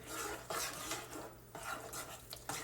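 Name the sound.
stirring SpaghettiOs tomato sauce in a pot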